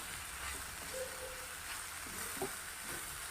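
Hadga flower vegetable sautés with salt in a pan, a soft continuous sizzle with occasional faint stirring scrapes, heard alone and fairly quiet.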